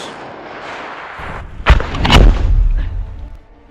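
Russian artillery systems firing, a loud close boom followed by a second heavy blast and rolling low rumble that fades over a couple of seconds.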